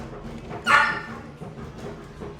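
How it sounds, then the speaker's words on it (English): A single sharp dog bark rings out, fairly close and loud, then gives way to faint background noise with no further barking. "my dog was going crazy"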